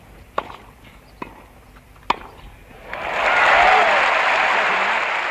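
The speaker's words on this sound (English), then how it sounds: "the sound of rubber on grass" Tennis ball strikes on a grass court at the 1967 Wimbledon men's final: three sharp, isolated pops about a second apart, then a swelling wave of crowd applause that holds loud to the end.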